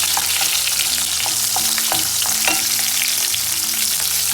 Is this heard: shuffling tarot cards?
no